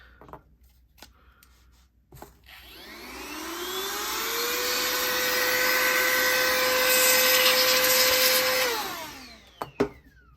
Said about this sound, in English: Test out the old blower.